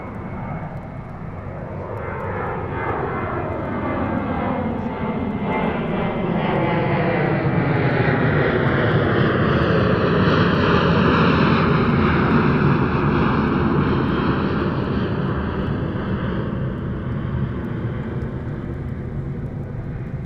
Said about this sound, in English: let's listen to the incredible sound of the close-up takeoff